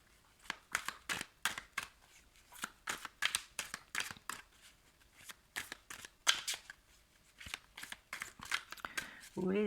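Playing cards handled and shuffled close up in a run of quick papery riffles and snaps, with short pauses between bursts and a voice briefly at the end.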